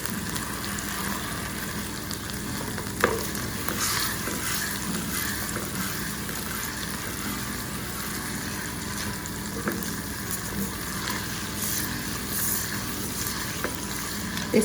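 Pork chops in green sauce sizzle and simmer in a pan, a dense continuous hiss and crackle at even loudness throughout, with a couple of faint clinks and no voices.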